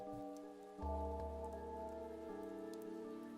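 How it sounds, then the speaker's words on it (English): Steady rain in the video game Chaos;Child patters on a surface in an alley, with an even wash of drops and a faint low tone humming underneath throughout. "the only sound in the alley was the sound of the rain."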